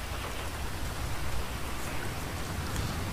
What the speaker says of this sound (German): Es fängt ja gerade wieder an zu regnen.